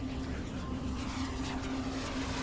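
A steady aircraft engine drone from the video game I Am Fish hums continuously with a constant low tone, even and unbroken.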